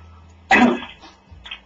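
A person coughs in a short harsh burst, then gives a fainter cough or throat-clear about a second later, close and loud against a quiet background.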